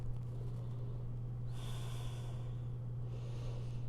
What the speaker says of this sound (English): exhale, ripple down, constricting that throat and softening